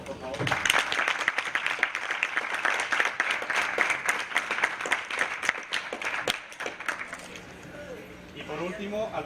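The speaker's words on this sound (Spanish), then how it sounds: "Un aplauso, por favor." An audience at a political event in Mexico applauds, a dense burst of clapping from many hands that swells, holds for several seconds and then fades as a voice begins speaking.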